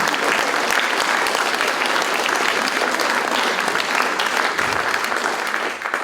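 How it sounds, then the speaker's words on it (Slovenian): Warm, steady applause from a concert audience at a mixed choir's anniversary concert, a dense continuous clapping that fills the hall for several seconds with no voices over it. "Prosim še za en aplavz."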